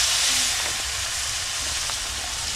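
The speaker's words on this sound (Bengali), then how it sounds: "এই দুটো আগে আলুটা ভেজে নিই।" Potatoes frying in a pan over a wood fire make a dense, continuous loud hiss and sizzle with no pauses.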